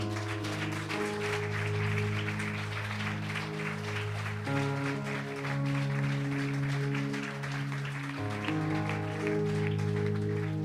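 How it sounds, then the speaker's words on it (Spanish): A church congregation claps during a Sunday service, the steady broadband applause running the whole time beneath loud sustained worship music with held keyboard-like chords. "Dan un aplauso al Señor."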